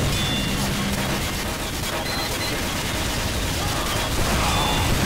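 Continuous Team Fortress 2 gunfire in a Mann vs Machine match on the Coal Town map, with the player as Soldier: a dense, loud fusillade of overlapping shots and blasts with no break throughout.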